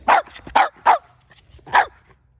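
A Newfoundland dog gives four loud, close barks, three in quick succession and a fourth after a short pause, with quiet background in between.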